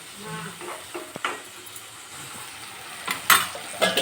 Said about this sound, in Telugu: ఇది కూడా కొద్దిగా ఫ్రై అవ్వాలి టమాటో